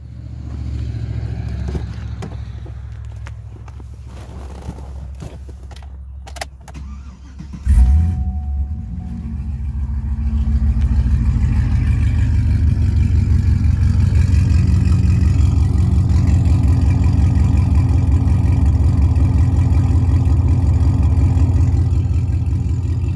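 A 2009 Cadillac CTS-V with its exhaust cutouts open cranks and fires up with a sharp burst, then settles into a loud, steady, deep idle rumble close to the microphone.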